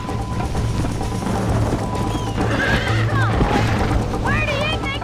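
A horse in the Red Dead Redemption western video game whinnies loudly near the end, over a steady clip-clop of hooves, game ambience and dialogue.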